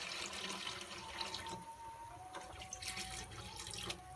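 Water, about three quarters of a kilo's worth, pours into half a kilo of rice soaked for an hour for chicken pulao biryani, a continuous close splashing stream with no talk.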